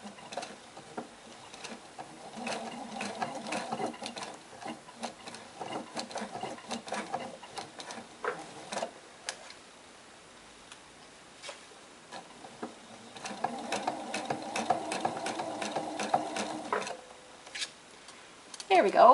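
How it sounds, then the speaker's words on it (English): A sewing machine stitching a tote bag, slow rapid needle patter in two stretches with a quiet pause between, faint and close, a person speaking softly around it. "I'm going to sew slowly."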